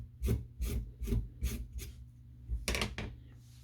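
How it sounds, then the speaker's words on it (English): A sweet potato is peeled with repeated scraping strokes, about eight rhythmic rasping pulls up close, steady then quicker at the end, with no talking. "I'm going to peel it before I wash it"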